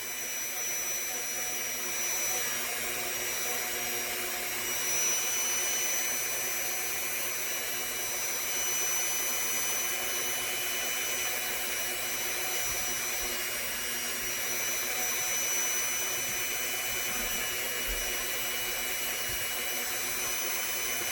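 A handheld rotary tool grinds a hard resin pendant, a steady close whirring drone with a high whine that runs without pause for about twenty seconds, with no talk.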